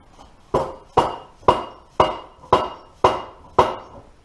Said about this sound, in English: We'll tap in with the hammer.